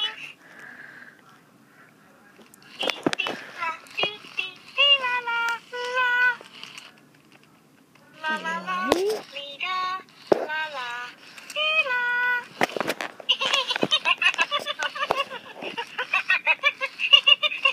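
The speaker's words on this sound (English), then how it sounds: "Furbies purr like a cat." A 2012 Furby toy makes chirpy, warbling electronic sounds in bursts, with a soft purr-like stretch between them, close and moderately loud, with brief pauses.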